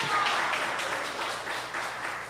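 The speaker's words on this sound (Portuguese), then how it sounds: "Você pode aplaudir?" A church congregation breaks into applause during a sermon, a broad steady wash of many hands clapping at a moderate distance, sustained without pause.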